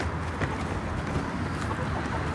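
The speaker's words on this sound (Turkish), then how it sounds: "Görmüş olduğunuz gibi karma kümesin tavuklar arkadaşlar." Hens in a mixed farm coop cluck and chatter, several birds close by with overlapping calls and scratchy movement, and a faint crow-like call breaks through now and then.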